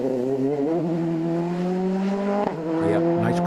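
Johnny Greer's rally car at the Ulster Rally passing close, its engine note climbing and revving in rising harmonics, then a sharp crackle and a dip as it goes by and pulls away.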